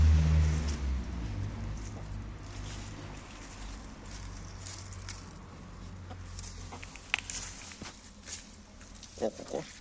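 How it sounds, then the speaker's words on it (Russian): Loman Brown hens on a walk outside, soft scattered clucks and brief calls over a quiet, low background hum, with a louder rumble at the start and a few sharper clucks near the end. "Да, такие неприкольные животные эти куры."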